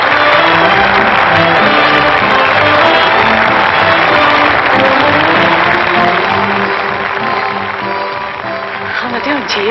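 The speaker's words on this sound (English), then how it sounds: "That noise is applause, isn't it?" Audience applause and crowd noise in a large hall, a dense, loud wash of clapping mixed with voices that fades slightly toward the end.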